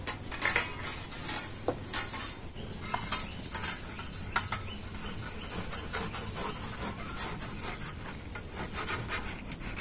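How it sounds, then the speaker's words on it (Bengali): Raw and ripe mangoes are rubbed against a kitchen grater in a close, continuous series of rasping strokes with a steady back-and-forth rhythm and occasional metallic scrapes, with no voices. "আর গ্রেটার দিয়ে এখন এই কাঁচা পাকা আমগুলো গ্রেট করে নেব।"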